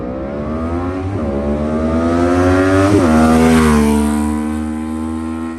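QJmotor SRV 600 motorcycle engine revving loudly and close, pitch climbing in steps as it runs up through the gears, with brief dips at each shift before rising again.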